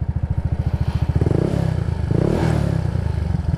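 A Yamaha Mio Sporty scooter engine cranks repeatedly without catching, a loud rapid chugging pulse that stutters and briefly rises before dying back into steady cranking, heard close up.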